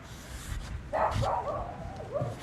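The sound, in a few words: dog barking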